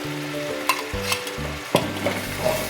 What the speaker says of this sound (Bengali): খুব ভালো করে আমি মশলাটা কষাবো